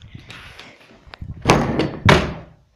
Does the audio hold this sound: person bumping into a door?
yes